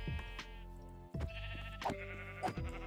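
Sheep in the Minecraft video game bleat several times across a few seconds, each call a short wavering tone, loud and close against a steady game background.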